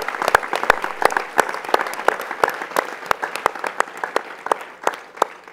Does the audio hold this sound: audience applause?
yes